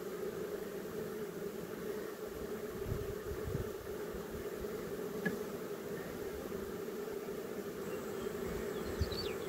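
Honeybees buzz steadily and continuously around an open hive while a beekeeper makes up nucleus colonies, a dense, even drone filling the air with no talking.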